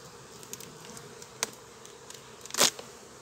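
Honeybees buzz around an opened beehive during a hive inspection, faint scattered hums and passing wingbeats near the microphone, with one louder close buzz toward the end.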